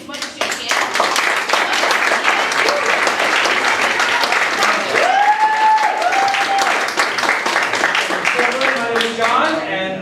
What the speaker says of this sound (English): everybody just like keep clapping as much as you can